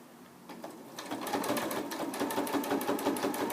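A sewing machine stitches fabric for a tote bag, its needle running steadily in a fast, even mechanical rhythm that builds up after a quiet start.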